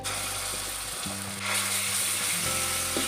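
A tablespoon of ginger garlic paste fries in a generous amount of oil for misal, a loud, close, continuous sizzle with stirring, growing brighter midway, and no talking.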